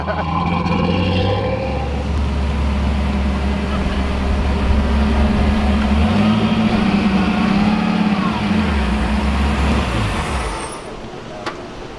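A big-turbo LS1 car on a dyno holds a loud droning engine note that climbs in pitch as it revs high, then sweeps through gear changes before winding down and cutting off near the end.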